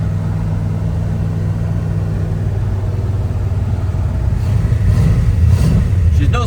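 A 1963 Corvette barn find cruises along with a steady, loud low engine rumble that swells slightly toward the end, while people talk inside the car.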